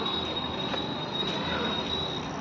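A metro train passes overhead on an elevated line, giving a steady, close rumble of wheels on rails with a thin, continuous high squeal running throughout.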